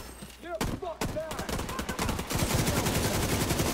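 An RPK machine gun fires in The Division 2 in a sustained automatic burst, loud rapid shots that grow denser toward the end, with some scattered game sounds at the start.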